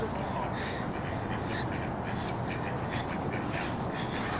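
Ducks quack by a roadside, a dense continuous chorus of calls over steady outdoor background noise, with people talking nearby.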